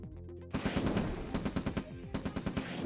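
Rapid automatic gunfire in OpenRA Red Alert as a unit is sniped, with a sharp onset followed by a quick run of loud, evenly spaced shots.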